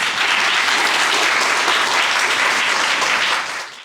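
A school assembly audience in Lahore claps loudly and steadily, a dense unbroken wash of applause that fades toward the end.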